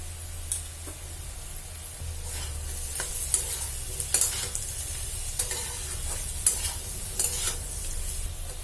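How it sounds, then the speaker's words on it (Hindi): Turmeric, chili and coriander powder frying in a pan, with a steady low sizzle and repeated scraping stirs throughout. "एक मिनट हम इसका मसाला जो है वो भून लेंगे।"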